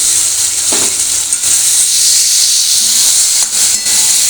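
Potatoes tipped into hot oil for a katla fish curry and sabji, giving a steady loud hiss of sizzling frying that runs continuously, with a few brief clinks and stirring sounds over it.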